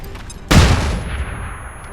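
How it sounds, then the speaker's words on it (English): A flashbang grenade goes off in XCOM 2 Long War 2 as one sharp, loud blast that decays over about half a second into quiet, with no talk. "we need one last flashbang if we're going to get out of this"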